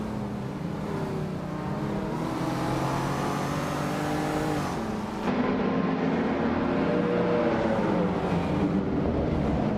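Retro slow racing cars on the Knock Hill circuit in a racing game, several engines droning and revving together at steady volume, with a sharp shift in pitch midway as the pack moves off.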